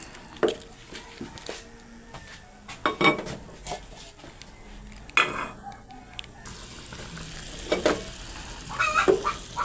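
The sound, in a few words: chicken soup boiling in pot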